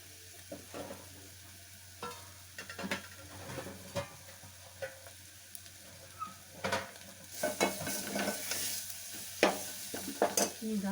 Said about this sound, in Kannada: ಸ್ವಲ್ಪ ಹೀಗೆ ಇದರಲ್ಲಿ ಫ್ರೈ ಆಗಲಿ.